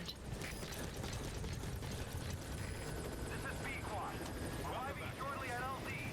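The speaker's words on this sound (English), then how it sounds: "Helicopter pickup." Helicopter arriving for a pickup in the video game Metal Gear Solid V: The Phantom Pain, a faint continuous rotor drone with mechanical clatter, heard under talking voices throughout.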